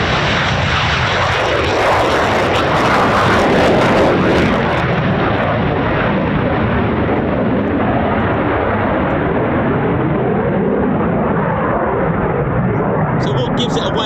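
Military jet aircraft at RAF Coningsby make an unrestricted climb on performance takeoff, a loud sustained engine roar that swells early and then slowly recedes into the distance.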